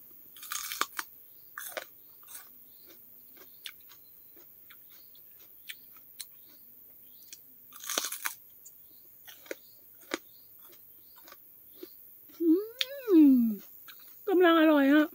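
Biting and chewing raw crunchy bitter gourd fresh from a garden, with sharp crisp crunches spaced irregularly, close and clear against quiet, followed by brief voiced sounds near the end.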